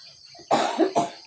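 Two sharp coughs in quick succession, close and fairly loud, against a quiet background.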